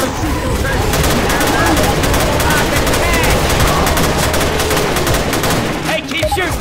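A SIG Sauer MCX Virtus SBR with a Romeo optic fires in Left 4 Dead 2: a loud, continuous stream of rapid automatic shots that breaks off briefly near the end, with voices talking over the shooting.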